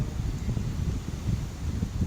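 Steady wind blowing across a rainy campsite at night, a constant low rushing roar with faint rustling, close and unbroken, with no talking.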